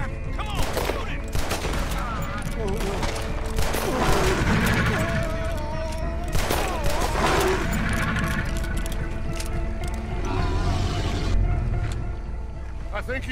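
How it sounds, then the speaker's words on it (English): Gunfire from the Western video game Red Dead Redemption 2, a steady fusillade of shots through the scene mixed with shouting voices and background game noise, loud and continuous across the whole stretch. "Keep shooting. Come on, shoot it."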